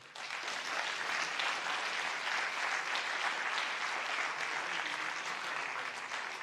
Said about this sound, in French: On peut applaudir toutes ces personnes